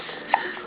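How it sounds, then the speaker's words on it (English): A baby's single short hiccup, a brief clear blip in the middle of an otherwise quiet indoor moment. "Do you have the hiccups"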